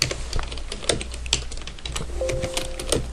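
Typing on a computer keyboard during spreadsheet work, irregular close key clicks with a few sharper presses over a steady background hum, no talking.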